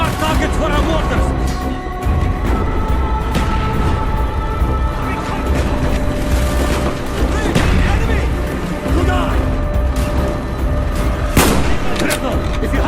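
Mortar and gunfire in Call of Duty: Black Ops, a dense continuous battle din with repeated heavy booms and crackling shots, loud and close throughout, with shouted voices mixed into the chaos.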